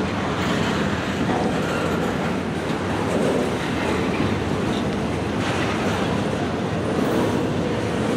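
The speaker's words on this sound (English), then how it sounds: "that train literally slammed on brakes" Loud, steady rumbling roar of a train braking hard, with a continuous grinding wash of noise throughout, close by and unbroken.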